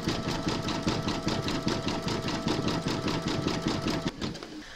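An embroidery machine satin-stitches the trim of an appliqué Mrs Claus skirt, giving a loud, close, rapid and even mechanical pulsing that runs continuously before easing off at the end.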